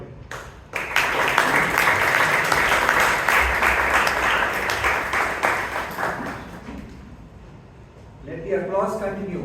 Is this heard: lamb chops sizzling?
no